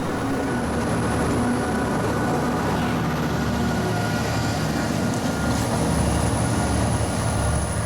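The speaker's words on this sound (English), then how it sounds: "CSX O721 picked up 2 lumber cars at Hialeah Yard and is preparing to reverse back into a string of hopper cars" A CSX O721 freight local with two lumber cars at Hialeah Yard backs toward a string of hopper cars, giving a steady, continuous rail rumble and grinding that stays even throughout, with no voices.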